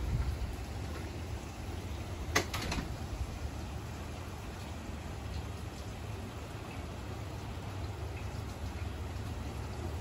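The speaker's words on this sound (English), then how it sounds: "It's actually a pretty light thunderstorm." Light rain falls steadily on a cold fall day during a mild thunderstorm, a soft, even patter with a brief sharp crack near the start and faint bird calls in the background.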